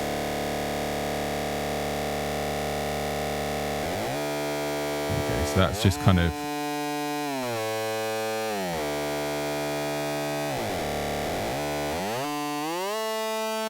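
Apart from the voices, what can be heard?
synthesizer lead with LFO phase modulation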